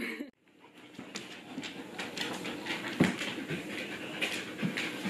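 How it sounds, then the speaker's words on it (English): A dog pants steadily close by and whimpers in short, thin cries, with a few soft thumps and taps in between, all fairly loud and without talk. "naughty dog Sit, naughty dog, sit down."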